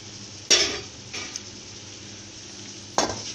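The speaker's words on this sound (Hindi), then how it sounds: "अच्छे से चम्मच डाल के इसको मिक्स कर लें" A spoon mixing milk and flour batter in a bowl, with three short scraping strokes against the bowl over a faint steady background hiss.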